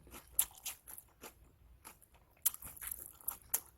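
Close, crisp crunching of fresh lettuce being chewed, in irregular bursts with quiet pauses, no talking.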